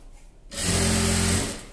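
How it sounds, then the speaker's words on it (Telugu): A sewing machine runs one short burst of about a second while double-stitching a small skirt for a young child, a loud, close, even motor whir that starts abruptly and fades as it stops. "మళ్ళీ డబుల్ స్టిచ్చింగ్ వేసుకోవాలి."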